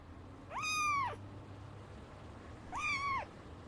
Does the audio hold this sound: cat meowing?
yes